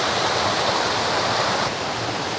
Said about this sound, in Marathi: एकदम खळखळ वाहणारं पाणी